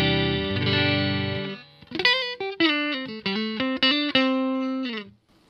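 An electric guitar is played through a NUX amp modeler set to a Twin Reverb model: a sustained chord rings out first, then a run of distinct single notes is picked clearly up close, with no talking.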